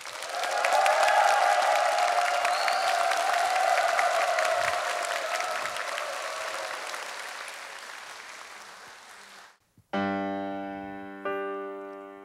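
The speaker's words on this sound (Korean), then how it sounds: "큰 박수가 필요합니다." Audience applause greets a traditional Korean music pianist at an agri-food knowledge-sharing concert, a broad crowd of clapping and some cheering that swells, then fades out before piano notes begin sounding clearly at the end.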